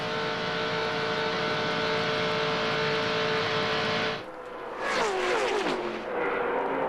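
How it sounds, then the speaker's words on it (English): Stock cars in the 2000 ARCA 200 at Daytona, a sustained engine roar that drops away briefly, then surges back as cars sweep past with falling pitch, loud and unaccompanied by talk. "battle for second spot as David Keith pulls up on the outside of Kimmel"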